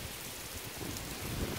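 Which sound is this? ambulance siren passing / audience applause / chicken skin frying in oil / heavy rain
heavy rain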